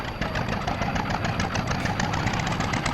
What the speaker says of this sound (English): Very, very antique-ish, old-school type tractor noises, sounds, operations